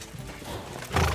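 A horse in the video game Kingdom Come: Deliverance II gives a short snorting whinny, ending in a louder burst, with faint hoof noise beneath.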